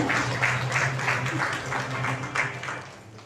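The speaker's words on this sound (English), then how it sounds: "Kindly give a big round of applause to Master Utpal Arvind Sainekar." Sustained applause from a crowd at an award ceremony, many hands clapping steadily at moderate volume with a low hum underneath.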